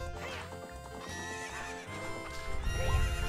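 In the video game Zelda Ocarina of Time Master Quest, a racing horse neighs and whinnies loudly over steady galloping hoofbeats, with game music running throughout.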